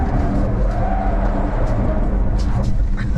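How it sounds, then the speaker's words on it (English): Ford Mustang Mach-E Rally electric car sliding through a quick U-turn, a steady loud rush of tyres and motion noise filling the cabin, with brief higher squeals near the end. "let's just make a quick U-turn as an example to the viewers, should we? Do you think we could slide it?"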